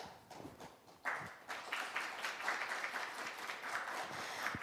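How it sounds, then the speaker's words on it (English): Applause at a business forum begins after a few scattered claps and swells into a soft, sustained round of clapping from a seated audience, heard at a moderate distance. "please give him another big round of applause"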